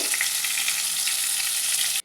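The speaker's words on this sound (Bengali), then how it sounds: "আলুটা দিয়ে কিন্তু আমরা ভেজে নেব একটু লালচে করে" Potatoes seasoned with salt and turmeric sizzle loudly and steadily in a hot pan, a bright crackling hiss that cuts off abruptly at the end.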